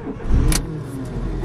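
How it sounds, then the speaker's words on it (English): A car engine starting on a vehicle showing a check engine light, a short cranking burst that catches into a steady idle close by, with no speech over it. "Let's start the engine."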